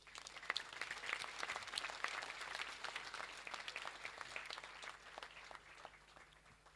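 A school prize-giving crowd applauds its winners with dense, steady clapping heard at a distance, fading gradually toward the end.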